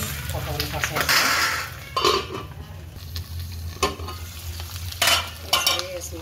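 Food being fried and stirred in a pan, a soft sizzle under repeated scraping and clinking of a spoon against the metal in bursts, close at hand.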